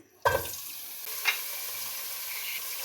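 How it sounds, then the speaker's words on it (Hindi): Half a kilo of chicken hits lightly heated oil with a sudden sizzle, then keeps frying in a steady, close hiss while being stirred. "जब ऑयल हल्का सा गर्म हो तो हाफ के जी चिकन वो डाल दें।"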